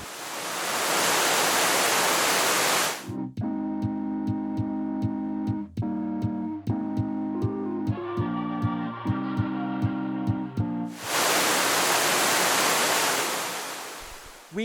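Tequendama waterfall gives a loud, steady roar of falling water at the start and end. Music cuts in over the middle section.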